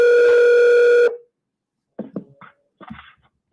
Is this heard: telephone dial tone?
yes